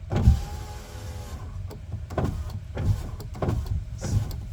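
Power window motor in the door of a 2007 Ford F350 with aftermarket speakers, heard as a close whirring hum with several sharp knocks, likely the window bracket hitting the speaker magnet.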